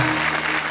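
Audience applause at a Hindi poetry stage show, a short dense burst of clapping heard close and loud, with no talking over it.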